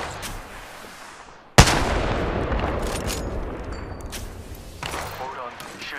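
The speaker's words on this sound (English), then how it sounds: "The enemies are shooting at me." Gunfire in the battle royale game Apex Legends, opening with one sudden loud shot followed by a sustained clatter of rapid shots and impacts, fading slightly toward the end.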